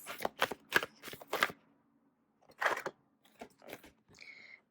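Oracle cards being shuffled by hand, a close, quiet run of crisp riffling bursts, then a pause and a few softer flutters as one last card is drawn.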